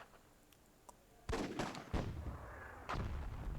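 Gunfire in the video game Myth II: Soulblighter, a few sharp bursts of shots and explosive impacts following a quiet stretch, fairly loud and close, with no talk over them.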